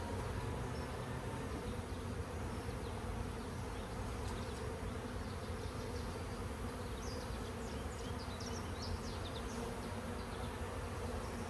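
Honeybees buzz in a steady, faint, dense drone during an apiary hive inspection, a continuous hum with no voices.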